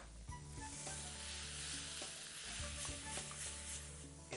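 Red chili paste sizzles steadily in a hot pan with rice, noodles and frozen peas, a constant soft hiss of frying with faint stirring, fairly quiet and without talk.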